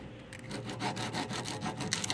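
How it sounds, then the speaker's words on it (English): Sandpaper wrapped around a flat block rubs along the cut edge of a plastic fender flare for a 1991 GMC Jimmy S15, giving a steady run of close, scratchy back-and-forth strokes with no talking. "I just threw it in this sandpaper, wrapped it, and then so I had a nice flat edge to work with."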